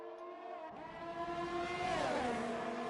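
Formula 1 race cars in the F1 2018 video game at the Canadian GP, running nose to tail: steady high-pitched engine whine with rising revs as one car pulls closer, a continuous loud racing drone.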